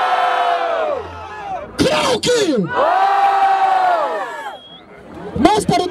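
A crowd at a freestyle rap battle in Barueri, São Paulo, roaring, cheering and shouting loudly up close, with a host's voice yelling over the noise in bursts.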